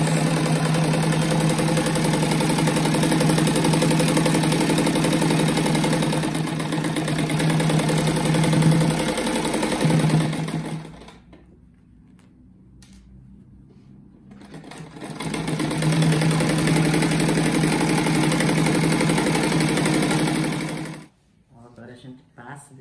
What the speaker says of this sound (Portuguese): agora eu costuro aqui a largurinha do pé da máquina